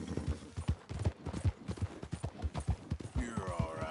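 Horse hooves clip-clop at a steady trotting rhythm in the video game Red Dead Redemption 2, close and distinct, with a brief whinny near the end.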